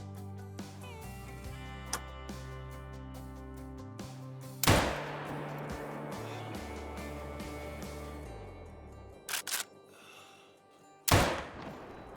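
A rifle shot rings out in the hunting video game Call of the Wild, a sharp loud broadband crack with a short decaying tail, followed later by a couple of quick smaller clicks and a second loud report near the end.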